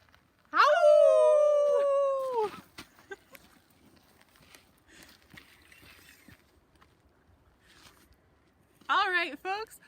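On a wildflower hike, people imitate coyotes with one long, loud, wavering howl, then a shorter howl near the end, separated by quiet outdoor ambience.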